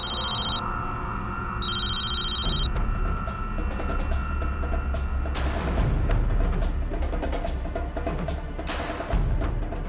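An electronic phone ring chirps in two short bursts near the start, then continuous clattering and mechanical noise fills the rest.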